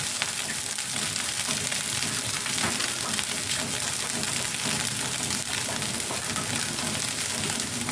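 Flattened rice fries with peanuts in oil for a breakfast poha, producing a steady, loud, crackling sizzle that holds constant without pause or talk.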